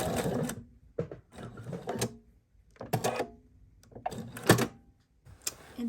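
A sewing machine stitches an apron pocket, running in several short bursts with brief pauses as the seam is reinforced back and forth, close and clear with no talking.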